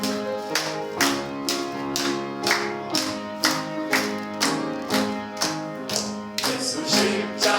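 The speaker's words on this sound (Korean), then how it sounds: "우리 힘차게 우리 박수 치면서 찬양할까요?" Church congregation at a Sunday service claps in a steady, even rhythm along to a hymn, with sharp regular claps about every half second over sung music.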